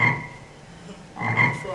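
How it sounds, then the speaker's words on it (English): Two deep croaks from a giant bullfrog played as a stage play sound effect, loud and close, with a short quiet gap between them. "Frog. There's a frog."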